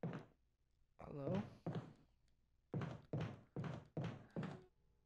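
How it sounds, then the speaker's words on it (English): Heavy rattling thuds of a zombie at a window in the Resident Evil video game, one thump followed by a cluster of three and then a run of five evenly spaced knocks, close and loud against silence. "Was that a rattling at the window I hear?"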